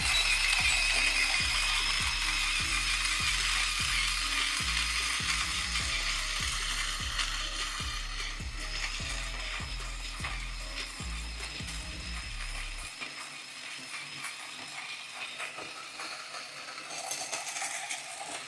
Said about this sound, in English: So I add it in my coffee grinder. The moment I press the start button to grind